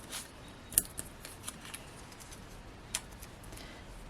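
Scissors snipping through paper while trimming pieces from a cardmaking kit, a few quiet crisp cuts, one sharper snip near the start and another later, close and soft with no talking.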